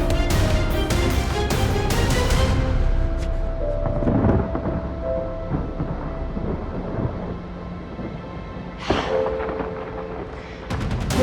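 Heavy thunder before rain: loud cracking peals at the start give way to a long, low rolling rumble, then another sharp crack breaks out near the end.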